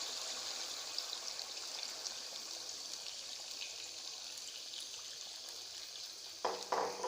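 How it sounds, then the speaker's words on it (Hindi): Water poured into a pan of fried beef for gravy makes a soft continuous trickle and faint sizzle, ending in a few louder clattering splashes near the close. "अब जो है हम इसमें ग्रेवी या शोरबे के लिए पानी डालेंगे।"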